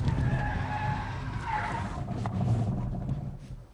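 A car skids as the driver loses control, a loud rumbling slide with tyre noise and engine drone that swells and then fades near the end, no speech.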